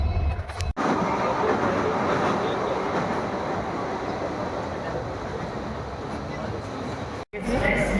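Rumbling, rattling ride on board a local commuter train in Kolkata, a steady dense roar of wheels and carriage noise filling the whole stretch, with brief cuts near the start and end.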